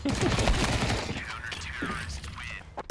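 Auto shotgun blasts fire in a quick burst during a Counter-Strike pro match, followed by mechanical reload clicks and handling sounds amid busy game noise.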